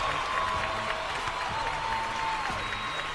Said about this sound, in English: Let's give a round of applause for Sam